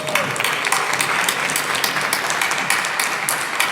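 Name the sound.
audience applause for hackathon demo presenters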